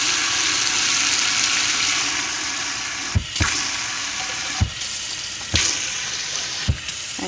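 Water pours steadily into an RV water filter housing, a continuous close trickling hiss with a few sharp knocks and clunks scattered through it, and no one speaking.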